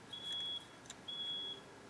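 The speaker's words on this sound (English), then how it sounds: "let me just allow you to hear some beeps from outside my window" Two sustained high electronic beeps from outside a window, each lasting about half a second with a pause between, faint and distant against a quiet background.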